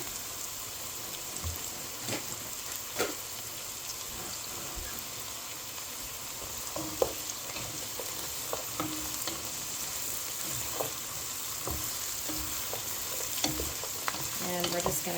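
Celery and carrots sauté in a pot for cabbage soup, a steady low sizzle running throughout with scattered light stirring clicks and occasional pops close by.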